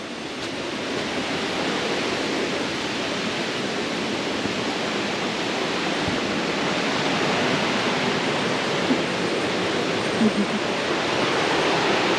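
Steady rushing water fills the whole stretch, a broad continuous roar of the Sungai Chiling river near Kuala Kubu Bharu, Malaysia, with no voices.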